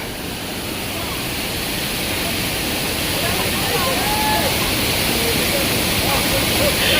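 A waterfall pours in a continuous, loud, broadband roar, close by and unbroken, with faint voices in the background.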